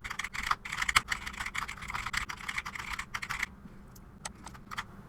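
Typing on a computer keyboard into a Google Docs page, with quick, uneven clusters of crisp key clicks close to the microphone that thin out to a few isolated taps.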